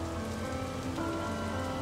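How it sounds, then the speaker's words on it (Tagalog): Steady rain falls in a dense, even hiss throughout, close and continuous with no voices over it. "Ulan lang yan, hindi yan nakakamatay."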